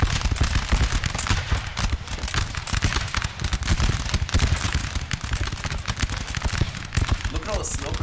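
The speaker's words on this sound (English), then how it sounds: "These poor line infantry are just getting shot to oblivion inside this house." Musket gunfire at line infantry inside a house in the video game Napoleonic: Total War 3, dense rapid volleys of crackling shots overlapping continuously, loud and close.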